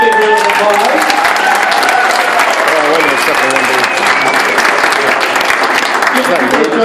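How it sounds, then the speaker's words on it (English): Loud, sustained applause from a theater audience at a hypnosis show, clapping dense and continuous as volunteers leave the stage, with whoops and a voice speaking over it. "Everybody give those people that joined us on stage a big round of applause."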